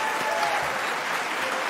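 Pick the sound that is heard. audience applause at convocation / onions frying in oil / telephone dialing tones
audience applause at convocation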